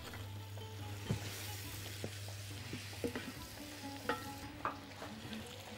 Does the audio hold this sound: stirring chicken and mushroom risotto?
yes